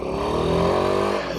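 A Royal Enfield Himalayan 452 motorcycle engine runs with a steady, close-up rumble and a slight rising pitch, as if revving gently while riding.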